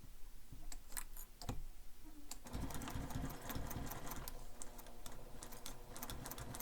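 A sewing machine runs steadily, stitching the straight side seam of a bag, its motor humming continuously after a few scattered clicks and taps at the start, with no talking.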